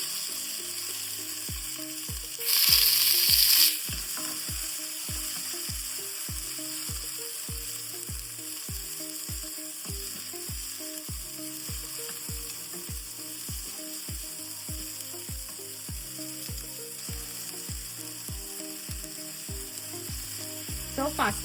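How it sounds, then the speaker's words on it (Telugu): Garlic and mixed vegetables frying in hot oil, a steady soft sizzle running throughout with a regular clicking pattern beneath it and a brief brighter hiss burst near the start. "సో వెల్లుల్లి ఇట్లా మంచిగా వేగిన తర్వాత మనము ఈ వెజ్జెస్ అన్నీ యాడ్ చేసుకుందాము"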